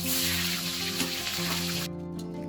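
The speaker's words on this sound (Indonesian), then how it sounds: "kemudian goreng di minyak yang sudah dipanaskan" Marinated tofu frying in hot oil, a steady close sizzle with a low bubbling hum throughout, no voices.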